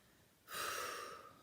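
A forceful breath pushed out through the mouth during a hypopressive abdominal exercise, a sudden breathy rush of air that starts abruptly and fades slowly over about a second, close and alone.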